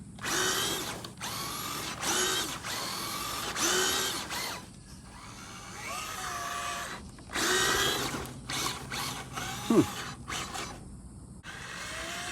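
A Traxxas TrailRunner RC crawler with a Crawlmaster Sport 10t motor and 1080 ESC whines and buzzes through repeated bursts of driving, the electric motor pitch rising and falling between short pauses.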